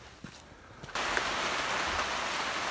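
Heavy rain falls outdoors at an off-grid cabin build site, starting as a light patter that suddenly swells into a loud, steady downpour hissing on surfaces.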